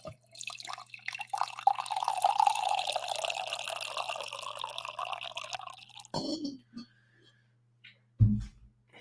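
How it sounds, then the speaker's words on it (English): Coffee poured into a cup during a livestream, a steady liquid stream for about six seconds whose pitch rises as the cup fills, then a few drips and a soft clunk. "Coffee pour here"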